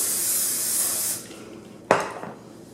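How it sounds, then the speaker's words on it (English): A can of hairspray hisses in a single steady burst of about a second, sprayed onto curled hair, close and fairly loud, followed by a soft sharp tap. "I will take hairspray again and just spray that part"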